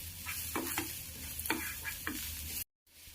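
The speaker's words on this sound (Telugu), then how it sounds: "ఆనియన్స్ ఇలా ఫ్రై అయిన తర్వాత పసుపు కొద్దిగా వేసుకోవాలి. వేసుకొని ఇలా ఫ్రై చేసుకోవాలి." Onions and turmeric sizzle in a pan, stirred with several distinct scraping strokes over a steady fry, close and alone, then a brief cut to silence near the end.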